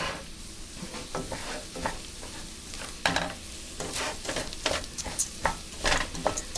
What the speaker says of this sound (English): you can start to see that pasta is going to start to brown